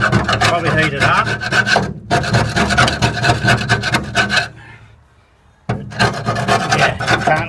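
A scraper rasps rusted rock coat off the body of a Honda S600 in rapid, gritty strokes, loud and close, broken by two short pauses, the second with a near-silent gap.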